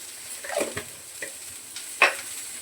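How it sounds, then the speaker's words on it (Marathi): Masala paste dry-roasted in a pan with no oil for a Maharashtrian rajma curry, giving a few soft scraping stirs and a brief louder scrape, mostly quiet between strokes. "ते बिना तेलातच परतून घेते जरा"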